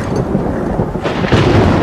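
Thunder from an approaching storm rolls in a short, deep rumble that swells louder toward the end, heard alone without speech.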